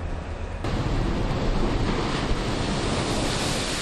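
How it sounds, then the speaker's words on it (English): Storm waves crash over a seawall in Scituate, Massachusetts, during a powerful snowstorm with coastal flooding. A loud, continuous roar of surf and wind noise bursts in after a quieter opening and stays dense and unbroken. "Waves crashed over the seawall in Scituate, Massachusetts Thursday as a powerful storm brought snow, wind, and coastal flooding"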